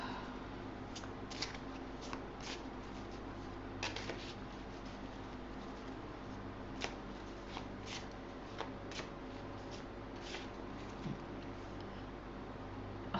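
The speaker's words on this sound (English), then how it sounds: "I'm going to shuffle again." Tarot cards shuffled by hand during a reading, a steady soft riffling and sliding of card stock with occasional sharper flicks, close and continuous over a low background hum.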